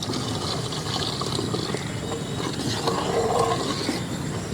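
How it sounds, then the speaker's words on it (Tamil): Water is poured into a pan of ground masala for Chettinad quail gravy in a village kitchen, a continuous hissing pour and sizzle heard close up with no talking. "தண்ணி சேர்த்துக்கலாம்."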